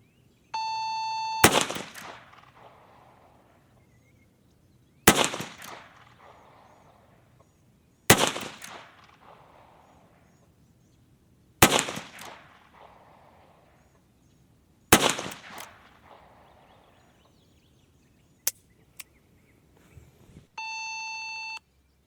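Revolver shots ring out one at a time at a shooting competition, five sharp loud cracks spaced a few seconds apart, each trailing off into a short echo. A beeping timer tone sounds at the start and again at the end.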